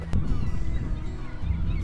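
Seabirds calling loudly and close near a Newfoundland puffin colony, harsh honking cries overlapping in quick succession.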